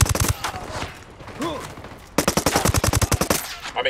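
Rapid automatic gunfire from a video game, played on a Lenovo LOQ 15 gaming laptop, rattles in loud bursts at the start and again in a sustained volley, with a shouted voice in between.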